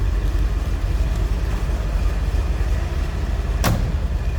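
A 1963 Chevrolet Corvette split-window coupe idles steadily at close range from behind the car, a continuous low rumble with even loudness throughout and one brief sharp click near the end.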